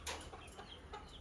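Chickens at a rural house compound give a few soft, short clucks, faint and somewhat distant, with no one talking.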